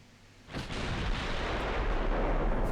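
Naval gunfire in Ultimate Admiral Dreadnoughts, a warship game: heavy booming guns open up after a brief quiet lead-in, then a dense sustained rumble of firing and explosions continues loudly to the end.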